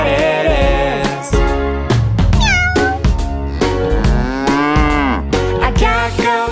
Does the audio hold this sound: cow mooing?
yes